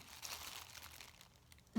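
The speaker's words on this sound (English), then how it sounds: "I'm using one of these Glad plastic bags" A Glad plastic bag being handled for a DIY Christmas candy box craft gives a soft, continuous crinkling and rustling, faint and close, with a brief louder crackle at the end.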